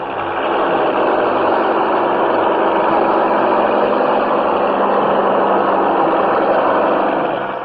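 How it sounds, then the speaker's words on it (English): Heavy earth-moving machines grind through deep sand during airfield construction, a steady, dense engine drone holding at constant loudness throughout without pause or voices. "even powerful earth movers bog down"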